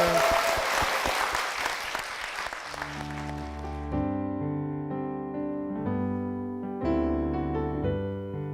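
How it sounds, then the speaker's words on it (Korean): Church congregation at Songcheon Church applauds loudly for about three seconds, then the clapping gives way to organ or keyboard chords that continue alone. "우리 그런 마음으로 두 분께 힘찬 박수 부탁드리겠습니다"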